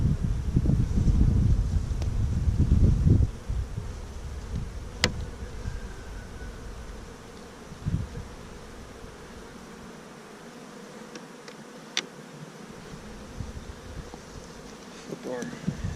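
Honey bees buzz around an open hive during an inspection, a soft continuous drone under outdoor wind with some handling rustle and brief talk early on.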